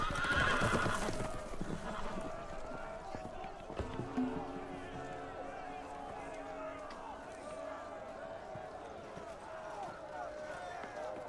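Horses in a Game of Thrones Telltale game scene whinny and gallop loose, with a loud neigh at the start, hoof clatter and a busy background of shouting voices.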